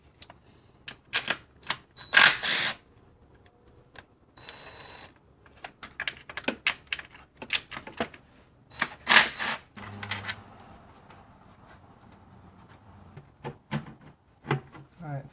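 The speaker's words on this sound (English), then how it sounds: "just loosen the bolts and get it out of the way" Intake manifold bolts on a BMW E60/E90/E92 are loosened with a ratchet, giving sharp, rapid clicking bursts scattered through a quiet workshop, close and intermittent with pauses between strokes.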